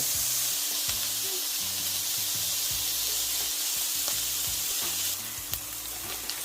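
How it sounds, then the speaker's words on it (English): Peas, carrots and corn sautéing in a hot pan for fried rice made with Jamaican seasoned rice: a close, steady sizzle with scattered small clicks and a low murmur underneath. "peas, and carrots. And then you're just going to keep sauteing all of these"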